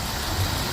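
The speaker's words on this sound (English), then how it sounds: "Engine runs good." A 1980 Jeep J10 Honcho pickup engine idles nearby in a brief, steady low rumble, even and unbroken.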